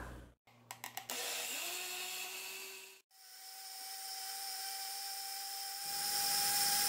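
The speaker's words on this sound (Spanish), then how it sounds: "en lo que el arroz se termina de moler" A kitchen blender grinds soaked rice for coconut horchata, its motor whirring steadily with a rising pitch as the load changes, briefly stopping and restarting, then running continuously, loud and close with no talking.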